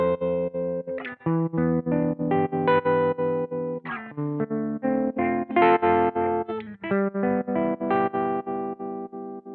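Electric guitar chords played through a BOSS FDR-1 Deluxe Reverb pedal with tremolo engaged, the sustained notes pulsing in a fast, even on-off throb, loud and close with a slightly driven tone, no talking.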